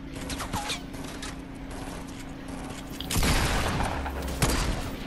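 Distant gunfire in a video game match: a steady, low rumble of shots that swells into a louder, denser burst partway through, with a sharp crack near the end.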